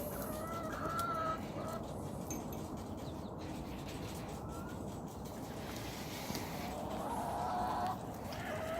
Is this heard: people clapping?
no